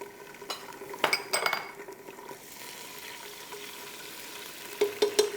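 Garlic ginger paste sizzles in a pan with light brown onions, a steady close fry broken by clinks and scrapes of a spoon stirring against the pot.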